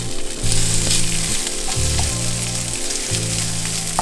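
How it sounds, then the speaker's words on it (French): Sun-dried tomatoes sizzle steadily in a hot pan, a close crackling fry with a repeating low stirring or scraping rhythm underneath. "Je vais faire revenir maintenant mes tomates confites"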